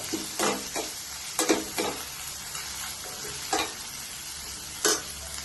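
Tomato and curry leaves sautéing in a pan for Rayalaseema-style red chutney, a steady close sizzle broken by several sharp scraping stirs of a spoon against the pan, with no voices.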